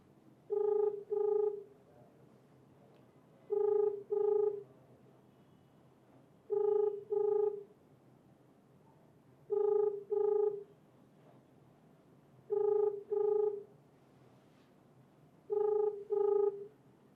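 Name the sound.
phone ringing on a call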